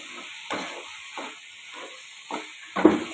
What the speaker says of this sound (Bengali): ভালো করে এরকমভাবে ভেজে নেবো আমি